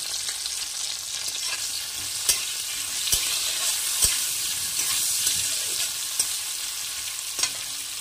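Bitter gourd frying in hot oil with turmeric and salt, a steady close sizzle with occasional sharp taps and scrapes of a spatula stirring in the pan.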